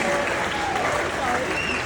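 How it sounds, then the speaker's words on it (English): Applause from passengers and guests celebrating the first Brightline train run to Orlando, a dense steady patter of many hands clapping close by with voices mixed in. "there's going to be a lot of clapping today"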